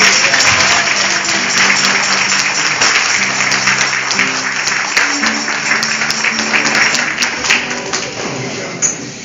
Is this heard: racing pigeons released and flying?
no